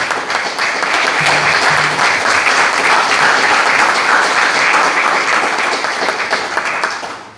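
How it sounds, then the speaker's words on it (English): Loud, sustained applause from a political gathering's audience for the lieutenant governor candidates, swelling quickly and holding steady before tapering off at the end. "Big round of applause for Marcus,"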